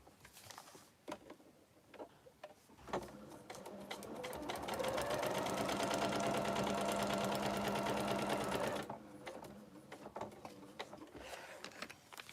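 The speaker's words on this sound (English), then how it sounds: "Okay, so we've stitched that in." A sewing machine stitches quilt fabric for a summer quilt block, its rapid rhythmic chatter building and running steadily up close for several seconds before stopping, with scattered handling clicks around it.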